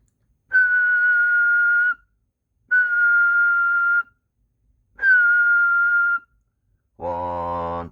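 Whistling into the microphone of a Galaxy 93T CB radio: three sustained steady whistle tones, each lasting over a second with short pauses between them, then a brief buzzier harmonic tone at the end.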